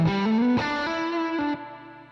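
An electric guitar played through an AMP1 Mercury/Iridium amp and effects pedal gives a few sustained distorted chords with chorus shimmer, ringing close and clear before fading lower.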